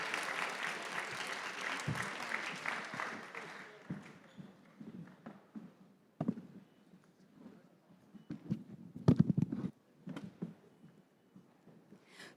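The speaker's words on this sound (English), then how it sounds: "Please give them another round of applause." An audience claps after a panel discussion at an anniversary conference and international symposium, dense sustained applause that fades after a few seconds into scattered claps and a brief voice.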